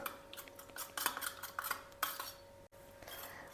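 A spoon mixes fresh aloe vera gel with lemon juice in a small bowl, making quick, irregular clinks and scrapes close by, with a brief silent gap partway through.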